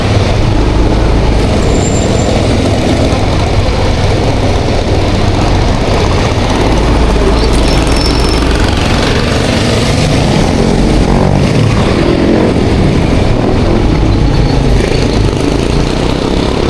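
Road traffic with trucks, buses and motorcycles, a loud constant rumble of heavy engines close by, with passing vehicles blending into a dense roar and no talk.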